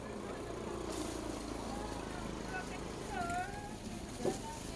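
A cat meows a couple of times amid busy outdoor market background noise, with people talking nearby.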